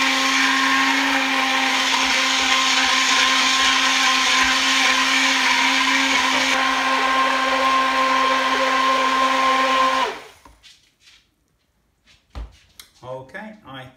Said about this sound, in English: I'm going to use this hand blender, and I'm going to put it in here very carefully and start to mix it up.